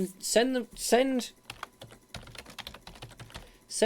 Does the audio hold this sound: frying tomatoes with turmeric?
no